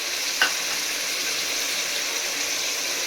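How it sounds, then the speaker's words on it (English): Mutton frying in a pan for biryani, a steady close sizzle with a brief scrape of stirring near the start. "and now add meat. Now mix it well."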